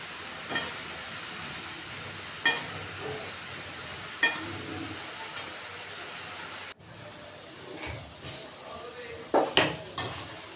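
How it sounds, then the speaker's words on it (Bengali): Crispy nimki dough snacks frying in hot oil make a steady sizzle, broken by a few sharp clinks and scrapes of a utensil against the pan, all close by. "এদিকে আমরা নিমকিগুলোকে ভেজে নিচ্ছি"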